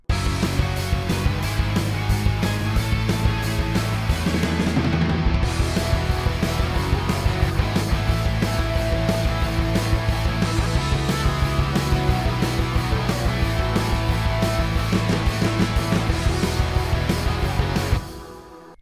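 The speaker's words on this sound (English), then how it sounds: "Today I'm going to show you how to make a pop punk type beat." A pop punk type beat drives with distorted guitars from a Squier Telecaster, pounding drums and bass in a dense, loud, continuous mix that stops abruptly near the end, no voices.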